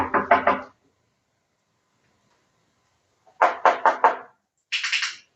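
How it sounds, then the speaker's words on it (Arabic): Repeated knocking on a door at home where a barking-prone dog is being trained: a quick burst of about four close raps, a pause, another burst of four, then a brighter, sharper rattle of knocks. "خليه يخبط بس اهم حاجه"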